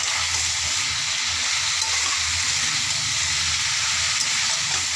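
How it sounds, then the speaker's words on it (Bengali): Turmeric frying in hot oil in a pan, giving a steady, close, continuous sizzle and hiss with no talking. "এবার এগুলো আমি আস্তে আস্তে একটু ভাজতে থাকি।"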